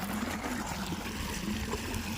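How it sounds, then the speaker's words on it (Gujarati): Water runs steadily through a channel in an organic farm field, a soft continuous trickle heard alone and fairly faint for the whole stretch. "અને આ બાજુ પાણી ચાલુ તમે જો"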